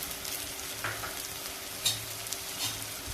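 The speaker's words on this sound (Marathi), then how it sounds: "आता हे सर्व मसाले आपण चांगले परतून घेऊ" Goda masala, coriander powder, turmeric and salt sautéing in a pan over a low flame, a soft steady sizzle with a few faint scrapes and one sharper clink of the spoon, fairly quiet and without speech.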